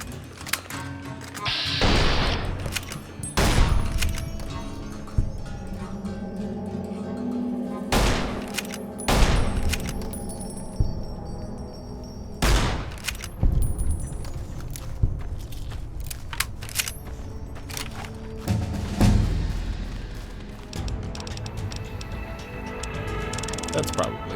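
Gunfire from a Fallout game mod: sharp, loud shots scattered in short bursts and single cracks, with someone talking over and between them.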